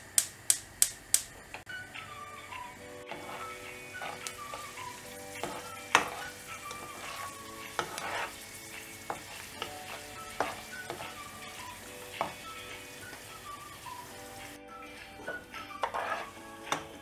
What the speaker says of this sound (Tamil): ஃப்ரை பண்ணி எடுத்துறலாம்